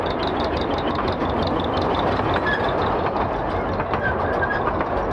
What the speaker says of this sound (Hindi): आप देख सकते हो ये आ रहा है टॉय ट्रेन, और पब्लिक घटाघट भरी है इसके अंदर।